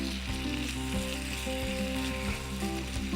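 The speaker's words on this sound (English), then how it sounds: "Pop the spuds in the pan. Give them a little shake or a little stir." Potatoes frying in oil in a pan for a tortilla, giving a steady, close sizzle throughout with low hum beneath and no talking.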